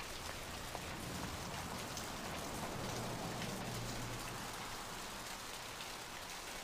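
Rain falls in the video game Vampire: the Masquerade - Bloodlines as a steady, soft, even hiss of drops on surfaces, continuous and unbroken, with no voices over it.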